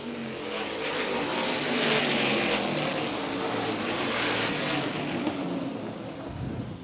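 Late model race cars roar around the Baer Field Speedway oval, a continuous engine drone swelling as the pack passes and easing off, moderately distant and steady throughout.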